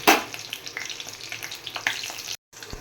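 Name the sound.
stirring red spinach frying with garlic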